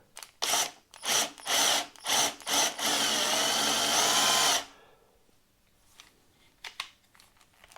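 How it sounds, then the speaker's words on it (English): A power drill whirs in several short bursts, then runs steadily for a couple of seconds as it drives a self-drilling tech screw during motorcycle assembly, stopping abruptly, followed by faint clinks. "I'm going to use a self-drilling tech screw"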